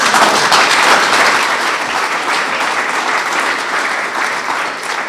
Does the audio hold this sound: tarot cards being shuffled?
no